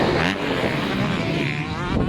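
A motocross bike roars loudly and close past on a red sand track in Spain, its engine blending with heavy wind buffeting on the microphone.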